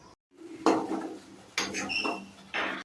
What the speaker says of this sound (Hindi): अभी इसमें सूजी भूंजेंगे